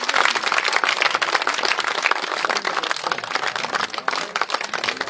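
Dense, steady applause from an audience at a women's day gathering, continuous clapping filling the whole stretch at close range with no pauses.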